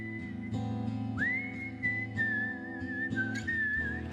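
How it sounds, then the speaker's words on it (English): A clear, sustained whistled melody with wavering pitch rises over a steady, rhythmic backing track with regular beats. "then I whistled the melody"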